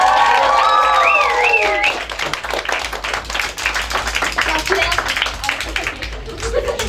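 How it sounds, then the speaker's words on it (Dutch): Applause from a carnival crowd greeting the new prince, a dense continuous clatter of clapping that swells under a voice talking over it at the start and carries on loudly to the end. "Jullie allemaal een daverend applaus."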